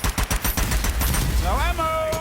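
Gunfire in the shooter video game Strange Brigade cracks out in a quick run of loud bursts, then fades into ringing tonal game effects.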